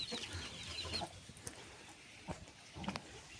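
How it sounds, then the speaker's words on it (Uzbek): Roosters and hens kept at home cluck and call softly at a modest distance, giving scattered short squawks and murmurs over a quiet background. "mana xo'rozlarimiz, makiyonlarimiz"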